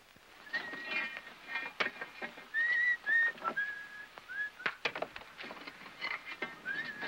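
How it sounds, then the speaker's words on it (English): A person whistles a short, wavering tune in brief phrases, fairly close and moderately soft, with scattered clattering and knocking sounds around it. "Hey, cut out that whistling."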